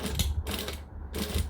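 Sewing machine top stitching fabric on a pouch, two short bursts of rapid mechanical stitching clatter separated by a brief pause, heard close and alone.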